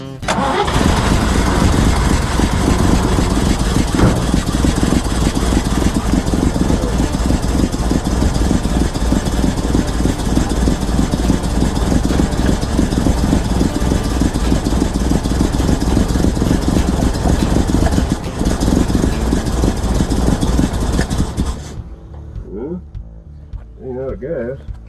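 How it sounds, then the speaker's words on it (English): A garage project engine idles loudly while warming up, a steady rough rumble running for over twenty seconds before cutting off, leaving a few quieter noises at the end. "Alright, so let's see what we can do here about setting the idle,"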